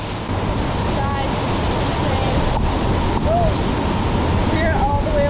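A Hawaiian waterfall near Hilo, heard from the top, gives a steady, loud broadband roar of rushing water without a break, with faint background voices or music briefly audible.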